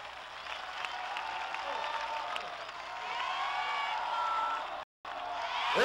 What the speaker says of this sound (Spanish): ¡Un aplauso para el Héctor Lavoe!